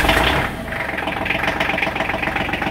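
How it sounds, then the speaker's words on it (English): Kubota L3130 diesel tractor starting from cold after glow plugs: a brief louder burst as the engine catches, then a steady knocking idle that runs on evenly, close by with no talk. "Let off the clutch, let her warm up, and that's how you start a Kubota L3130."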